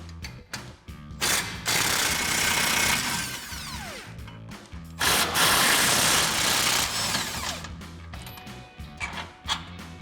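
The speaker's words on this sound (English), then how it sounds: "So I'll grab a 21mm socket and a 21mm wrench to get these out." Ratchet and wrench working 21mm shock bolts on a Jeep Gladiator JT during a suspension lift install, clicking in quick bursts separated by short pauses, close and fairly quiet in a garage.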